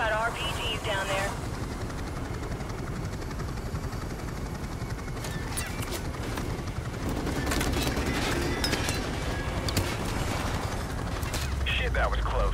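Gunfire in the video game Call of Duty: Modern Warfare Remastered, rapid bursts of shots and mechanical clatter mixed with a droning rotor-like rumble, with radio-style voices talking over the action.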